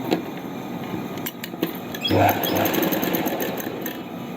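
A sewing machine stitches a seam on a palazzo pant leg, a close motor whir with quick clicks and a louder burst about halfway through, lasting only a few seconds.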